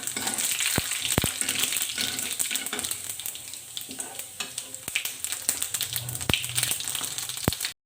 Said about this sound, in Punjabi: ਤੇਲ ਜੀ ਆਪਣਾ ਗਰਮ ਹੋ ਗਿਆ ਹੁਣ ਆਪਾਂ ਪਾਵਾਂਗੇ ਇੱਕ ਇਹਦੇ ਵਿੱਚ ਇੱਕ ਚਮਚ ਜੀਰੇ ਦਾ